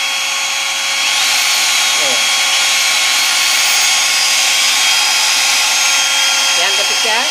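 A handheld power drill runs steadily and loudly in a workshop demo, a continuous high whine with a faint pitch sweep, while a generator engine hums underneath throughout.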